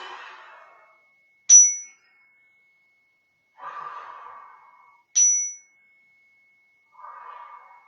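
A small meditation chime struck twice during a children's yoga breathing exercise, each a bright ringing strike that decays slowly, alternating with soft audible breaths in and out between the strikes.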